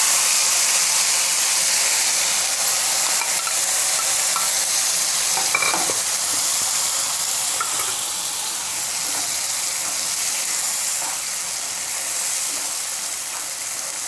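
A paste of ginger, garlic, tomato, green chili and onion fries steadily in a pan, giving a continuous close sizzle and hiss with faint stirring scrapes and no talking.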